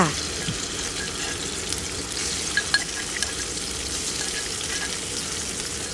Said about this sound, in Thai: น้ำมันเริ่มร้อน ใส่พริกกับกระเทียมลงไปผัดค่ะ